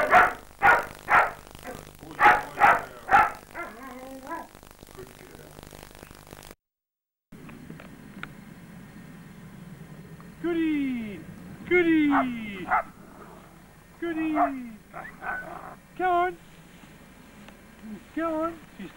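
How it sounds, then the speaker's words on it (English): A pet dog barks at home while another dog holds the toy: a quick series of loud, sharp barks, then higher yips and whimpers spaced out over the following seconds, with a person talking in between. "He's got the toy and she just does the barking."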